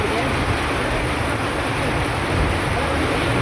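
Rain falls in a steady broadband wash of hiss and low rumble, fairly loud and unvarying, as the downpour begins to ease.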